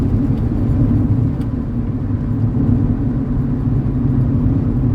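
A turbo diesel Chevrolet Nova with upgraded injectors runs with a steady, loud, low rumbling drone close by and no voices.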